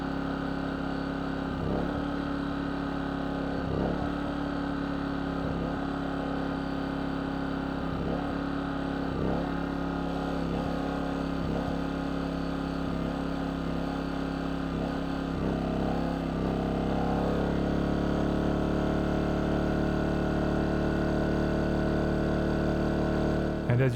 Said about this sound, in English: Time to plug into the generator and turn the AC unit on.